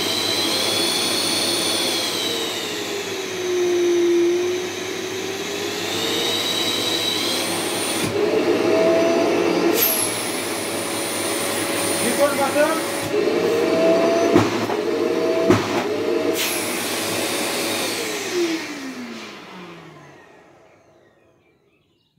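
A Festool Cleantech dust extractor runs with a loud steady whine and roar, its pitch sliding up and down, broken by several sharp air blasts as the filter cleaning kicks in, then spinning down to silence; a brief voice speaks over it.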